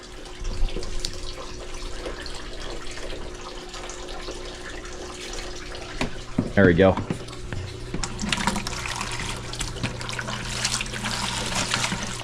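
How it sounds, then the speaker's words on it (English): Aquarium water is siphoned into a 5-gallon bucket during a water change, a quiet trickle that grows into a steadier splashing stream in the second half, with someone briefly speaking. "All right, we're just gonna siphon some water out."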